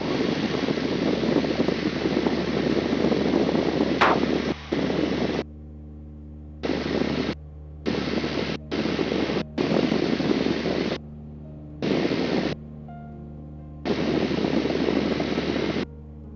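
Engines of a Tecnam P2006T twin-engine aircraft in flight, a loud, steady broadband drone heard from inside the cabin, cut by repeated gaps where a quieter background with faint tones remains.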